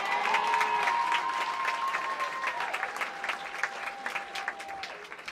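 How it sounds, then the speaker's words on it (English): Applause from a stand-up comedy audience, a steady wash of clapping that starts full and slowly thins toward the end, with faint voices beneath it. "Give him an applause for him."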